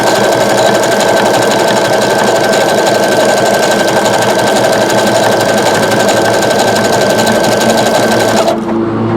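A Brother SE625 sewing machine runs loudly and steadily, its rapid mechanical stitching rattle continuous until it stops abruptly near the end.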